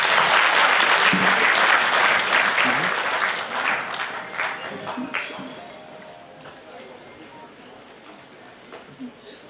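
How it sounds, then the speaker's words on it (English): An audience at a felicitation ceremony and exam-preparation seminar breaks into loud, sustained clapping that gradually dies down over several seconds. "Can we have a round of applause, please?"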